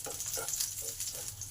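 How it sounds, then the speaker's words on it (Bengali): Garlic and broken chilies with cumin seeds sizzle quietly in butter in a pan, a soft steady crackle with a few light stirring scrapes, close and faint, no voices. "এই রসুনটাকে আগে ভালো করে ভেজে নিতে হবে।"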